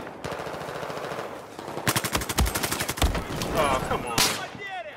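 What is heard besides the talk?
gunfire from a video game (Battlefield 4)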